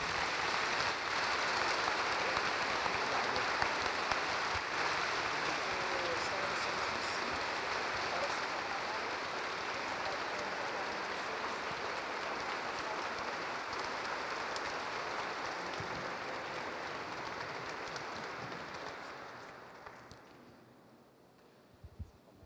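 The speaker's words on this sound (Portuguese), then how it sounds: "Então vamos dar a nossa salva de palmas para eles." Parish congregation giving a round of applause during an evening prayer gathering, a dense, continuous hiss of distant clapping that holds steady for about twenty seconds before fading out.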